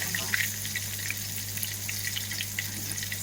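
Fish sizzling in a covered pan for a crispy fish fry, a steady hissing crackle with small pops throughout, close and fairly loud; no talking.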